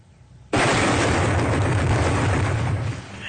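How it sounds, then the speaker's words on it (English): A main cannon fires in a video game, a sudden loud blast that lands about half a second in and holds as a dense, roaring rumble for nearly three seconds before easing slightly. "Firing main cannon."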